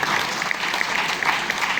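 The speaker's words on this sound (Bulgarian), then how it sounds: "Аплодисменти!" A crowd at a live awards-style show in Burgas celebrating Bulgarian landmarks breaks into brisk, even applause, many hands clapping close and loud in a short continuous burst.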